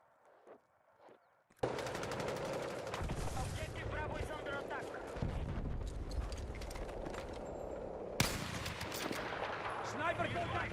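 Sniper gunfire in a video game: a dense, loud barrage of in-game shots and impacts that starts abruptly after a quiet opening, with voices heard underneath.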